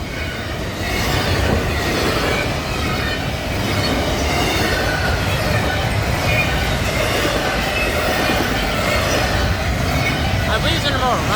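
An intermodal freight train rolls past a road crossing at Winns Crossing Road in Chapel Hill, Tennessee, a loud, steady roar of wheels and cars with faint squeals and clatter, close by and continuous for the whole stretch.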